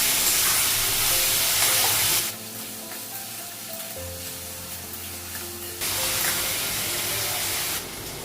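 Potato and pointed gourd frying in a pan give a loud, steady sizzle and hiss, easing to a softer crackle midway before swelling again near the end, with no talking.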